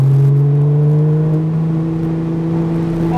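Car engine pulling up in revs as a learner driver accelerates, a close steady whirring drone with tones rising slowly and holding, no talk over it.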